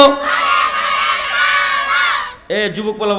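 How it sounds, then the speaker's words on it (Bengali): A large crowd at a Bangla waz gathering loudly shouts the takbir chant in unison, a sustained roar of many voices followed by a second short burst of shouting. "সবাইকে জোরে একটা আমার সাথে তাকবির দেওয়া যাবে"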